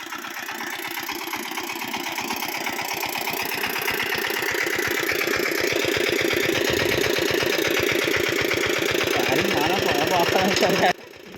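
A tractor engine chugs steadily and loudly at close range, its rapid rhythmic thumping continuing throughout before stopping abruptly at the end.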